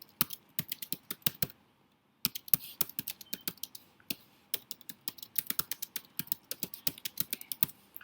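Someone types on a computer keyboard in quick irregular bursts of crisp key clicks, close and alone, with one brief pause early on.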